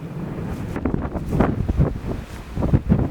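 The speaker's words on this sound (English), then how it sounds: "It's really windy" Strong wind buffets the microphone in loud, rumbling gusts that rise and fall throughout, with no voices.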